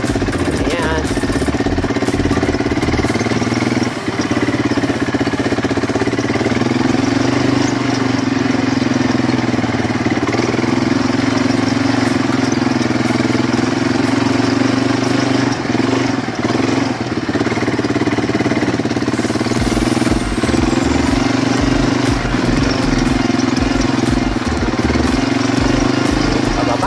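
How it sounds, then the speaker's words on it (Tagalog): A motorbike engine runs steadily and loudly for a long stretch in the desert near Hatta, Dubai, droning with slight rises and falls, with a voice talking now and then over it. "magpapatakbo po ulit si Kate ng motor"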